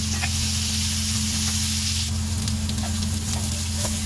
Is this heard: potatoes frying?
yes